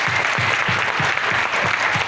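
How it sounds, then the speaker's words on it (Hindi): Steady, dense applause from a large audience at a leadership event, loud and continuous throughout with no pause or talk. "मेरे ख्याल से जोरदार तालियां होनी चाहिए इस"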